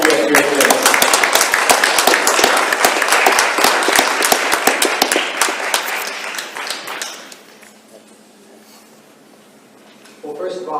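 An audience at a school district program evening applauds, loud, sustained clapping that fades out after about seven seconds, leaving a quiet room before a voice begins.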